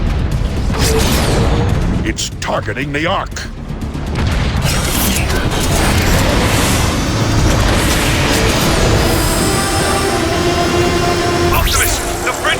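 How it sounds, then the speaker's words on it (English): Warp cannon blasts from the Decepticons in a Transformers video game, heavy booming explosions and crashing debris rolling in bursts, loud and close, with a voice speaking over the barrage. "The Decepticon warp cannon!"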